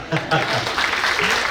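At a retirement gathering in a hotel hall, someone talks over a short burst of audience clapping that rises and stays fairly loud beneath his voice.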